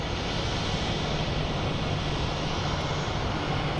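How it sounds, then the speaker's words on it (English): Heavy jet airliner taking off at Phoenix Sky Harbor International Airport, a steady broadband engine roar heard from a distance, continuous and unbroken throughout with no talk. "these are all very heavy takeoffs"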